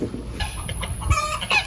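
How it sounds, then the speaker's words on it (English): Backyard coop chickens clucking in a steady, busy stream of short calls, fairly close, with no talking. "let's pop out to the chickens"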